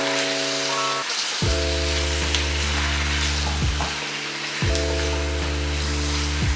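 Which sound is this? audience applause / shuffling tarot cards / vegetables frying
vegetables frying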